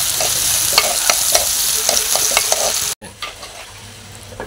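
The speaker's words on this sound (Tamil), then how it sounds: "வெங்காயம் வந்து நல்லா வதங்கிட்டு இருக்கு" Onions sautéing in a pan, a steady close sizzle with soft stirring scrapes, cut briefly by a sudden drop before the frying hiss resumes more quietly.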